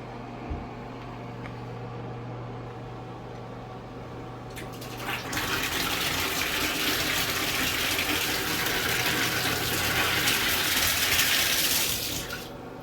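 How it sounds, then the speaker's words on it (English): Water gushes hard from a bath tap in a hotel bathroom, a sudden loud roaring rush that starts after a quiet hum and holds steady for several seconds before cutting off. "It's just a big old hole in the wall with this water like spurting out like 100 miles an hour."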